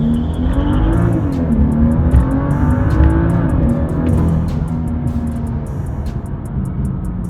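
A BMW M2 launches hard with launch control, its engine note rising loudly and steadily as it accelerates, with a continuous roar and faint repetitive clicking throughout.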